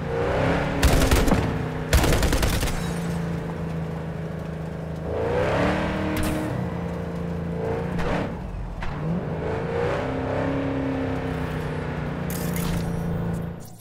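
A tank in a video game rumbles along while bursts of gunfire and heavy blasts crack out in rapid clusters, loud and close, over a steady engine drone with scraping noises between shots.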